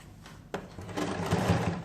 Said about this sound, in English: So we go in a curvy manner and sew it all through.